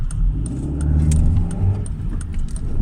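A 2008 Honda Civic FN2 cruising on the motorway at high revs, with a steady engine and road drone in the cabin and some light rattling or jingling on top.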